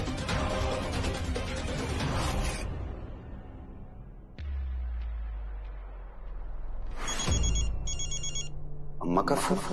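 A telephone rings in a Hindi TV drama scene, a bright electronic ringtone chirping in short repeated bursts after a swooshing transition and some background music, with no one speaking over it.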